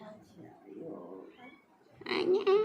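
A small black kitten gives a couple of short, close meows near the end, following murmured talk in a home setting.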